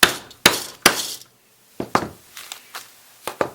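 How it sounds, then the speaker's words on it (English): A hammer strikes a metal eyelet setter on a paper purse project several times, with three loud, sharp whacks followed by a series of quicker, lighter taps. "take my hammer and give it a couple of whacks"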